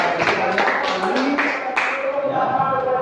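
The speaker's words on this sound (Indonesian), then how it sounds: "Tepuk tangan buat beda." A classroom group claps in a quick rhythmic pattern of distinct sharp bursts, fairly close and loud, with voices mixed in as the clapping continues.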